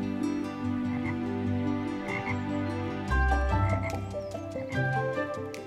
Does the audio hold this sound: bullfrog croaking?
yes